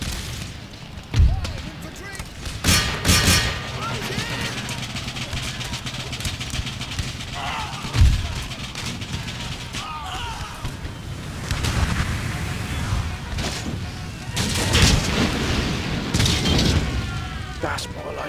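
Musket and artillery fire in the video game Empire Total War: heavy cannon booms and crackling musket volleys go off at irregular intervals over continuous battle rumble, with voices speaking throughout.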